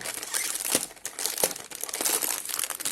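A plastic snack packet of banana-flavored chocolate-coated treats crinkles and crackles loudly as it is torn open, a continuous dense rustle with sharp bursts, close up and alone.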